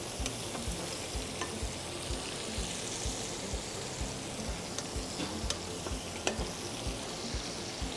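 Lamb breast with garlic paste sizzles steadily in a hot pan while being stirred, a close, continuous crackle with small scraping clicks from the spoon scattered throughout.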